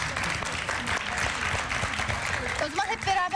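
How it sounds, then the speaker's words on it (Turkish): A studio audience applauds for the guest Mücahit Kaşgarlı on a television program. The clapping is loud, dense and steady for the whole stretch, with voices mixed in and a few tonal notes near the end. "Alkışlar Mücahit için"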